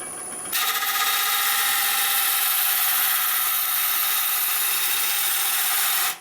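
A lathe tool cutting a maple burl bowl gives a loud, steady hissing scrape that starts abruptly and runs unbroken for about six seconds before cutting off.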